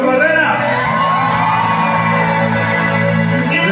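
A lively crowd at a night music show cheers and whoops amid loud amplified sound with a sustained musical tone, voices shouting over the steady din.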